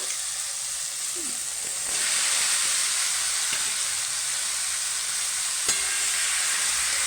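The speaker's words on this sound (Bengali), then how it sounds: "এই যে মশলা থেকে আমার তেল ছেড়ে দিয়েছে এবার আমি চাল কুমড়োটা দিয়ে দেবো" Ash gourd dropped into hot oil fried with spices gives a sudden, louder, steady sizzle that carries on with a bright, continuous hiss and no talking.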